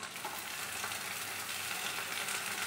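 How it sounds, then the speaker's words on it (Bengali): A paste of ground cumin, garlic, ginger and onion frying in a pan, giving a steady, even sizzle that holds at a moderate level throughout, close by and with no voices. "এগুলো আমি কষিয়ে নেব"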